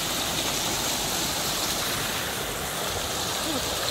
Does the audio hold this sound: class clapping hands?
no